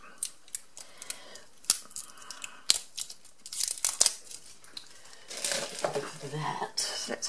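Washi tape packaging with a floral print is torn open and handled: crisp crinkling, ripping and rustling of plastic and paper, close and intermittent, with a busier stretch of crackling near the end.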